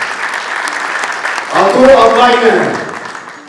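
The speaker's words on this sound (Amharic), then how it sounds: "አጨብጭቡላቸው በእናታቸው" Audience applause at a public event in Ethiopia swells in after a brief spoken introduction, a dense burst of clapping mixed with a voice over a hall sound system.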